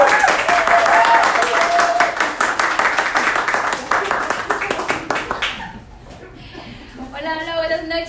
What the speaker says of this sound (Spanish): la tremenda campeona, Carmen Melgar, por favor, fuerte aplauso